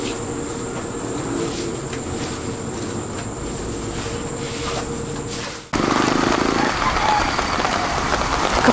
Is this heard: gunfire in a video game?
no